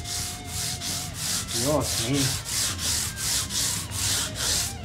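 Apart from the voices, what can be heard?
sandpaper sanding Fender Stratocaster wood body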